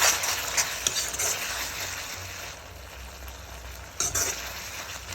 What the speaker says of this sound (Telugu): ఇప్పుడు ఒకసారి కలిపేసుకొని